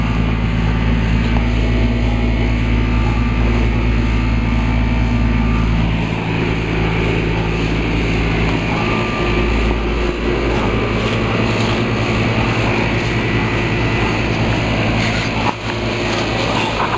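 An outdoor compressor unit runs beside a residential building, giving a continuous low mechanical hum with a steady droning rumble, loud and close, with no voices over it.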